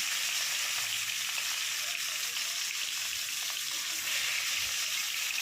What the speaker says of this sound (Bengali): এই মাছটাকে ভালো করে একটু কড়া করে ভাজতে হবে।